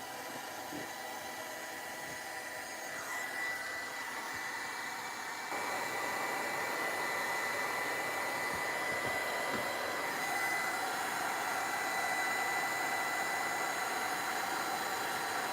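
A hair dryer blows steadily on gesso-sealed lace in an altered art piece, a continuous close whooshing hum that holds at an even level throughout with no voices.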